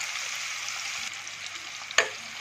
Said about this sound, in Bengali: এবার এই তেলে পেঁয়াজটা ব্রাউন হওয়া অবধি আমি পেঁয়াজটাকে ভেজে নেব